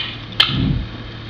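A single sharp click is played to insects in a quiet room. It is brief and isolated, followed by a soft low rumble.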